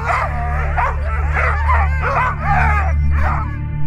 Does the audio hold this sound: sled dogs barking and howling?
yes